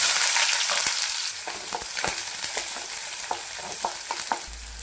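Chopped onion fries in a pan with mustard seeds and chana dal for kothavarangai poriyal, a loud, steady close-up sizzle broken by light scraping stirs and no talk.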